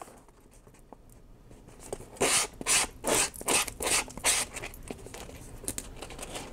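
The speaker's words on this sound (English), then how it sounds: "That also helps sand off any extra paper" Sanding block rubbed along the edge of chipboard to take off excess paper on a homemade writing board, a quiet start, then a run of about six loud rasping strokes in a steady rhythm, close up.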